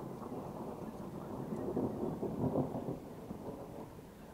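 Thunder rolls outdoors on a hot 30-degree day at a pigeon shoot: a deep, continuous rumble that swells slightly midway, then eases, with no voices over it.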